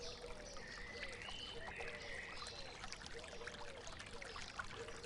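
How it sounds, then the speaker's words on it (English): Gentle water trickles and spills from level to level of a small stone fountain in a cottage garden, a soft, steady babble under faint outdoor ambience with light high chirps. "A gentle trickle of water spills from one level to the next"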